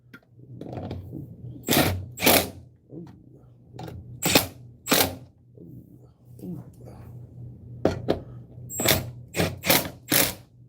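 Bolts being fastened in by hand, a series of loud, close, sharp ratcheting clicks and mechanical bursts separated by brief pauses, with some low muttering in between.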